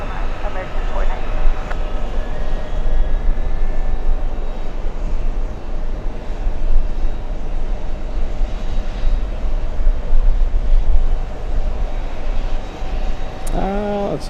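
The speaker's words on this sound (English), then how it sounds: "American 493 runway 22 right, let's take off." An American Airlines jet takes off from runway 22 right at JFK airport on a hot day, a loud continuous engine roar holding steady throughout, with radio chatter and a voice over it.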